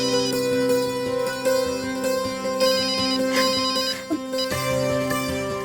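A telephone ringtone plays loudly and steadily, a repeating electronic melody with no voices over it, as a call comes in from the village head.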